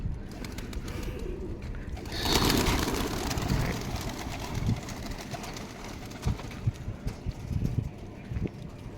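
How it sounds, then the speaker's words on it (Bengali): Pigeons at a house loft coo softly in the background over a continuous low rustle and ambient noise, with a louder burst of movement early on and scattered soft knocks. "অনেক কবুতর আছে"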